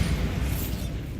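Bombarda blasting spell from Hogwarts Legacy: a dense, loud, rumbling explosion filling the whole short moment, heavy low-end roar with crackling debris on top, no voices.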